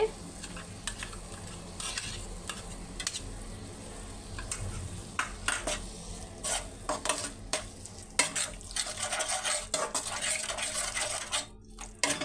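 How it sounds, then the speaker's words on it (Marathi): Ground masala paste for lasuni methi goes into a hot pan and is stirred with a utensil, making continuous sizzling and frying with scraping strokes and metal clinks against the pan, with no talking. "आता मी ह्याच्यामध्ये वाटण ॲड करून घेते."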